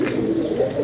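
A brief, low cooing murmur from pigeons in wet weather, steady and fairly close over a faint noisy background.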